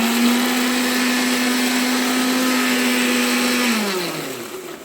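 An electric blender grinds onion, ginger, garlic and whole cumin into a spice paste for fish curry. The motor gives a steady, loud whir, then winds down in pitch as it switches off.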